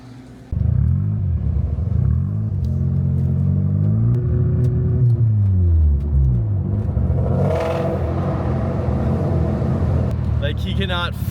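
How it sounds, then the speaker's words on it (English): A V8 engine on a street car idling with a deep rumble, then revving so its pitch swings up and down before settling, loud and close, with a brief voice and light clatter near the end. "he cannot fight the urge to just rev his V8"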